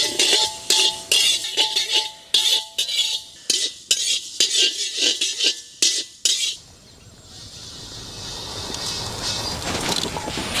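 Fenugreek seeds dry-roasting on a low flame in a pan, following cumin, for a chicken pickle masala: about six seconds of quick, rhythmic scraping and rattling stirs, then a soft steady hiss with no talk.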